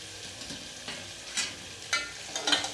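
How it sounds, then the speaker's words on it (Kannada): A spoon mashing boiled tomatoes in a pan for Udupi-style sambar, making soft wet squelches and scrapes against a steady low sizzle, with several louder pushes near the end. "ಈಗ ಇದನ್ನ ನಾವು ಸ್ಮ್ಯಾಶ್ ಮಾಡ್ಕೊಳ್ಳೋಣ ಸ್ಪೂನಿಂದ"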